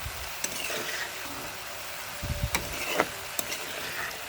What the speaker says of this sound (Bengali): তারপর এখানে আমি আলু ভাজি বসিয়ে দিলাম